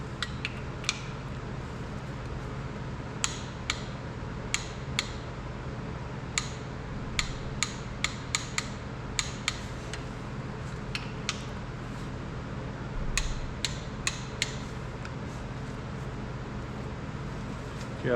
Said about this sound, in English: He's torquing the thrust washer,